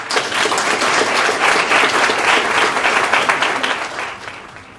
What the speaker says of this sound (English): Please give a round of applause for the victor, Naziazeni.